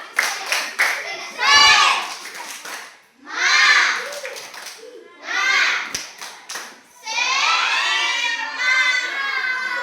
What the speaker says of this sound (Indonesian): Ayo, kita kasih tepuk semangat buat kelompok 1.